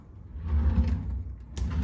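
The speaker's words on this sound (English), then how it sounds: "drawers for storage" A storage drawer in a Hilton Kuala Lumpur Grand Executive Suite hotel room slides open or shut, giving a soft low rumbling glide with a sharper knock near the end, close and moderately loud, with no talking.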